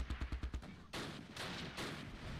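Mortar and small-arms fire in the WWII strategy game Close Combat Last Stand Arnhem, near Wolfheze: a quick rattling burst of shots gives way to three heavier, longer blasts, fairly faint and with no voices.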